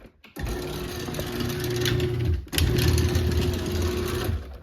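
A LiftMaster garage door opener motor runs with a steady mechanical whir and rattle during a force test, briefly dipping and restarting midway, close and moderately loud with no talk.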